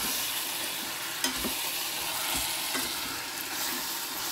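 A spoon stirs curry in a pan with a few soft scrapes and knocks over a low, quiet sizzle, with nothing else heard.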